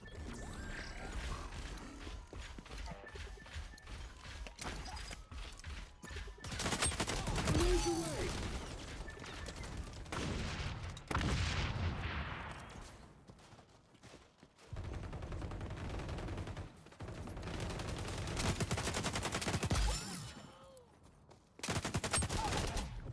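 Loud, dense game gunfire in the shooter XDefiant, with bursts of automatic fire and impacts running across most of the stretch, broken by brief lulls, while a player talks over parts of it.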